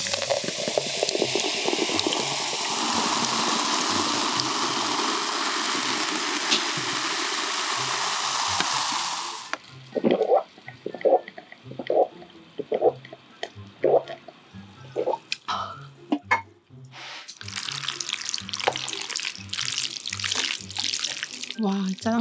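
Cola is poured with a long, loud fizzing rush during a Korean mukbang with black bean noodles, followed by close, repeated gulps and swallows, with brief fizzing bursts between sips.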